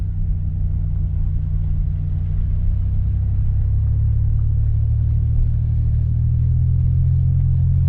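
Interior drone of a car driving along a snowy road, a steady deep engine and road rumble that stays loud and even throughout with no talking.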